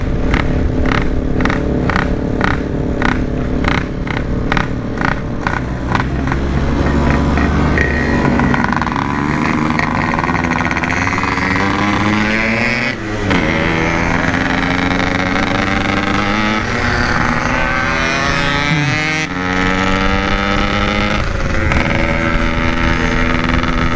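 A Yamaha RX King two-stroke motorcycle speeds along a city road at night, its engine loud and close with a buzzing rev that climbs and falls through repeated gear changes, while wind rushes over the microphone.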